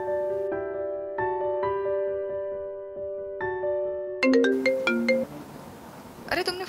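A melodic phone ringtone plays a repeating chime pattern, then is cut off by a brief burst of different tones and noise.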